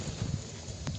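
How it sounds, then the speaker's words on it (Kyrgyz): A few muffled hoof thuds from a horse at an outdoor horse market, brief clip-clop beats over low background noise. "Мына туугандар да сатылган ат"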